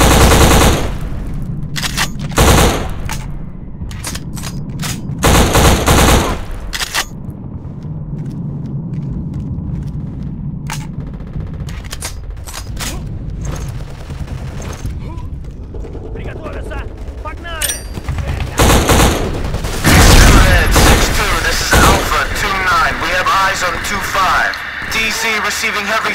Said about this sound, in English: receiving heavy fire